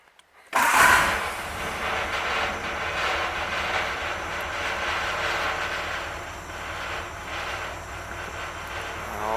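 Carbureted car engine idling steadily on a lift after an oil pan job, a loud continuous rumble that starts abruptly and holds with a faint rattle, no talking.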